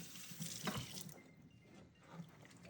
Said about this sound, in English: So you rinse them off first, right?